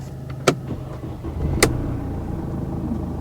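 A Mercedes C-Class estate, bought as a non-runner, starts up: two sharp clicks of the key and starter, then the engine catches and settles into a steady idle close by.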